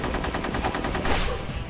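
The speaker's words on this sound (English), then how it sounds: "You shot me!" Rapid automatic gunfire in the video game Rogue Warrior, a dense sustained burst of shots at a steady rhythm, loud and close throughout with no talk.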